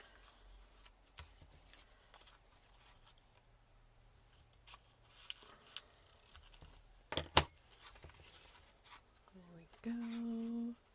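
Scissors trim paper for a handmade bow, giving soft, close snips and rustles scattered among faint handling noises, with a brief voice near the end.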